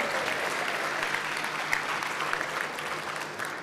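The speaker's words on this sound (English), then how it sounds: "Give them all a big round of applause" A convention crowd at the 2022 New Hampshire Democratic Party state gathering claps loudly and steadily for party officials, a dense even roar of hands that holds throughout and tapers slightly at the end.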